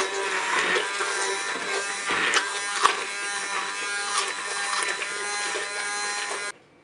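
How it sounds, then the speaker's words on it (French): Immersion blender whirring steadily through cooked apple and orange compote in a Cookeo pot, a continuous close motor buzz lasting about six and a half seconds before cutting off. "Maintenant je vais mixer."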